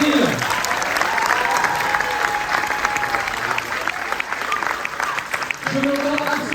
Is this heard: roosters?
no